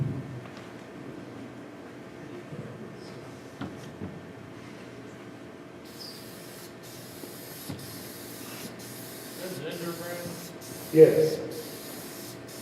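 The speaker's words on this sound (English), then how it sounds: "spray shellac" An aerosol can of prepared shellac sprays in short, soft hissing bursts, fairly faint and repeated in a broken rhythm, amid low room noise and a brief spoken word.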